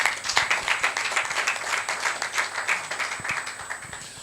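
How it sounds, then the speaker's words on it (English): A conference audience at CIPS Nigeria 2025 applauds with dense, steady clapping that rises quickly and gradually tapers off over a few seconds. "A round of applause for him, please."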